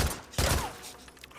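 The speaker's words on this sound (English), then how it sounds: "Just short bursts of gunfire" A short burst of gunfire in the video game Days Gone, one loud rattling volley in the middle of quiet game ambience, followed by fading noise.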